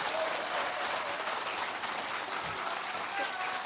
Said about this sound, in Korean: 손혜원 의원에게 큰 박수 부탁드립니다